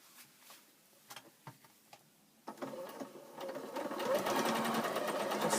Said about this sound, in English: Just sewing close to the edge